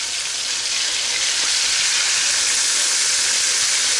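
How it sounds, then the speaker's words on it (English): Food sizzling in a hot frying pan in a home kitchen, a loud continuous crackling hiss that stays steady and close throughout, with no voices. "Hear that sizzle? And you want a sizzle, not a fire"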